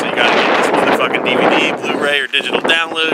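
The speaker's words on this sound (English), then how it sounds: "Sorry about the wind. It's a really windy out here." Heavy wind buffets the microphone in a constant low roar while someone talks loudly over it.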